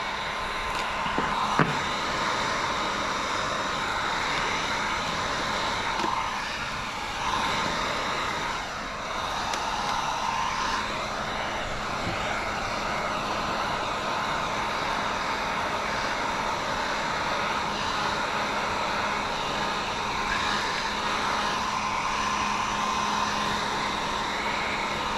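Heat gun blowing steadily while window tint is shrunk onto a 2012 Mercedes-Benz CLS AMG63, a constant close whooshing hum with slight shifts as the gun moves, no voices.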